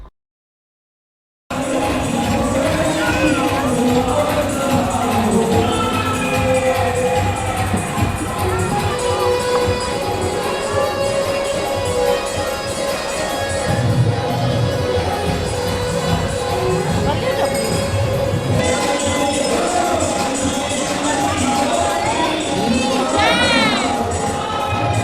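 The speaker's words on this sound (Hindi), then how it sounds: "सब लाइन में पूरे चिल्ला रहे थे खाटू बाबा की जय" A big crowd packed in a queue at the Khatu Shyam temple shouts and chants together, a dense, continuous roar of many voices with cheering swells, steady and loud throughout.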